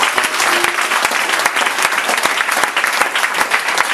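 A church congregation applauding to acclaim the Lord, with dense, loud clapping from many hands that carries on steadily throughout, close and without pause.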